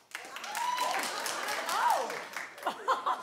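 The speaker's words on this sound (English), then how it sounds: "If you could, clap if you would." Applause from a comedy audience swells under a loud reaction of cheering voices and laughter, with scattered claps continuing as the noise tapers off.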